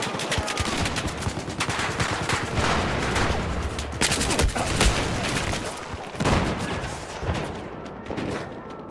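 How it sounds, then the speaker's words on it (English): Dense, rapid gunfire from frag rounds in Battlefield fills the scene, rattling bursts and booming impacts layered continuously throughout at loud volume. "he's using the frag rounds"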